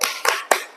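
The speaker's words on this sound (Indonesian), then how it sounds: "Al Gibran, kita kasih tepuk salut." A class of students in a physical education lesson claps a salute clap, three sharp, close group claps spaced evenly about a quarter second apart, with no talk.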